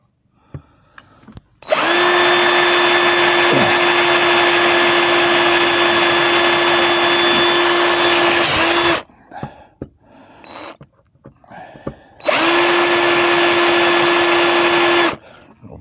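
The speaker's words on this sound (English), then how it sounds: "And I'm just going to drill the big holes." Two long bursts of a loud power drill with a Forstner bit whining at steady speed while boring large holes, separated by a pause with knocks and handling clatter.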